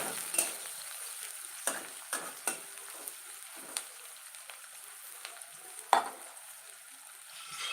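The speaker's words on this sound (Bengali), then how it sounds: "পেঁয়াজটা না এখন লাল লাল করে ভাজবে" Onions frying in a pan toward a reddish-brown colour, with a steady sizzle and several sharp spatula scrapes and taps against the pan, close and at moderate level.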